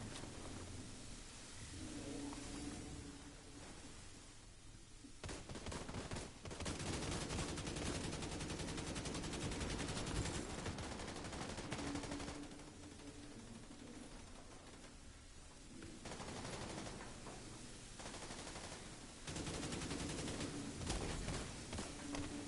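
Sustained gunfire from The Division 2, with rapid automatic bursts and heavy rumbling shots. The bursts come in long waves that stop briefly and then resume, fairly loud and with no talking.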